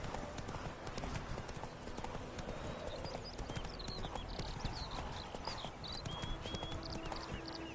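The horse Roach's hooves clip-clop steadily and close up in a video game, a continuous rhythmic trot under faint ambient background with brief whistly calls.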